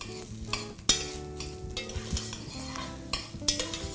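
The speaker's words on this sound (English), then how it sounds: "I'm also gonna add diced onions into the pot here." Diced onions and rice sautéing in a pot for gandule rice, sizzling under repeated sharp scrapes and clinks of a spoon against the pot, several distinct stirring strokes, close and moderately quiet.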